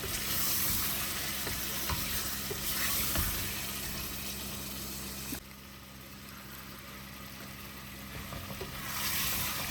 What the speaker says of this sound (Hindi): और इसको हम लोग थोड़ी देर भूनेंगे अच्छे तरीके से, कलर चेंज होने तक।